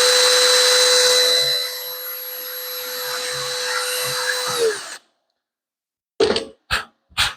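A power drill bores through the outer fiberglass layer of a boat's top, a steady loud whine for about five seconds that stops abruptly, followed after a pause by three short bursts.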